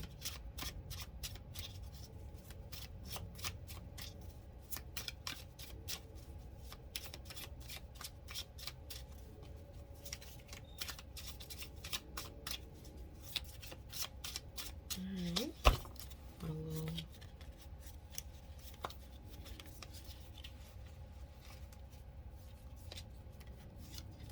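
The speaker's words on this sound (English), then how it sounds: "Somebody asked me why I do that last bit of shuffling." Tarot deck being shuffled by hand in a long run of quick riffled card flicks, steady and close, with a louder tap midway.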